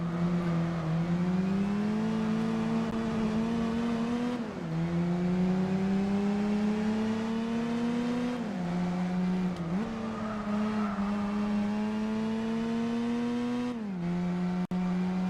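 Racing cars including a Toyota Supra in Gran Turismo 4 hold a steady, loud engine drone, its pitch climbing and then dropping at several gear shifts, with no talking.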